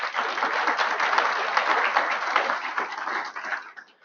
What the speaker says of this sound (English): So I'd like to give Margie a round of applause